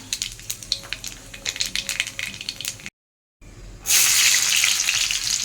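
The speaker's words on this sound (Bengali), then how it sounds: "তেল যেহেতু গরম হয়ে গেছে এবার আমি দুটো শুকনো লঙ্কা ছিঁড়ে দিয়ে দিলাম কালো জিরে কালো জিরে দিলাম" Dried red chillies torn by hand and nigella seeds dropped into hot oil: light clinks and rattles at first, a short pause, then a loud, dense, continuous sizzle right up close.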